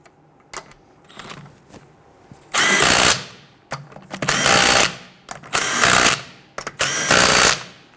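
An impact wrench runs lug nuts onto a rear wheel of a 2006-2012 Toyota RAV4 during a brake caliper job: four loud bursts of about a second each, with a short pause between them and softer clicks and clanks of handling in the gaps.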